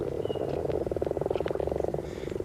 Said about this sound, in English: they were greeted by a chorus of croaks. The frogs had returned to breed.